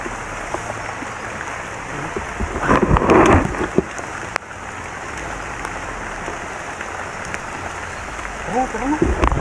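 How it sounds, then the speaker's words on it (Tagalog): Steady rain with thunder fills the scene, a continuous hiss with a louder rumbling swell partway through and a sharp crack, while voices are heard over the downpour. "Basa na ako sa ulan."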